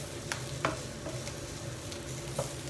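Aubergine caponata simmers and sizzles in a pan, a steady soft frying hiss with occasional faint stirring clicks and pops, no talk.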